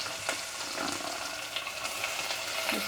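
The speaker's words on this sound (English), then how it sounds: "Now I am going to add the onions." Onions fry in a pan over a medium flame in a dense, steady sizzle that fills the whole stretch, loud and close, with no voices over it.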